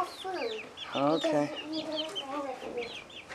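Chickens and roosters clucking and calling in a farm stall, close and lively with overlapping squawks and cackles throughout, while a voice speaks briefly.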